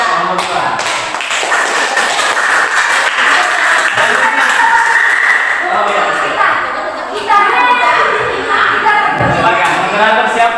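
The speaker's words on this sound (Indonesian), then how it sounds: "beri aplaus untuk kelompok berapa?" A classroom audience applauds a student group, the clapping running steadily through most of the clip under a talker's voice and background chatter.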